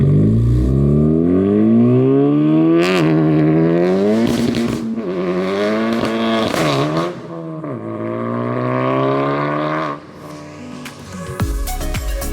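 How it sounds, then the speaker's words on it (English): A new Honda Civic Type R engine drones loudly from inside the car, its pitch climbing and falling through repeated rev rises and gear changes, with brief dips between pulls. "let's go and take the car for a drive and see how it feels"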